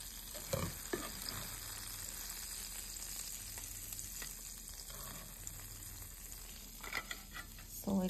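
Prawns for a malai chingri curry lightly frying in a pan, a steady close sizzle with scraping stir strokes and occasional louder spatters, no talking.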